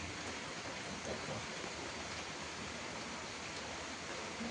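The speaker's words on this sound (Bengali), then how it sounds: "বোঝাতে পারছি বৃষ্টিটা তোমাদেরকে আমি" Heavy rain pours down steadily and loudly, a dense unbroken hiss of water filling the whole scene without pause.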